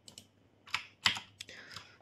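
Code is typed on a computer keyboard in short bursts of sharp, close clicks, a few quick keystrokes at a time, separated by brief pauses.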